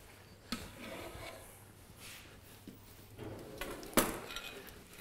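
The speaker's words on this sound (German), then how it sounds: "Dann hole ich mal den warmen Teller" Quiet kitchen handling as a warm plate is fetched and set down, with soft clatter and one sharp ceramic clink near the end, no talking.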